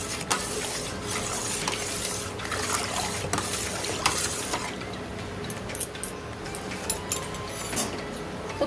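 Milk is stirred into curd to make mishti doi, giving a soft, continuous wet swishing and scraping with small liquid clicks, close and fairly quiet.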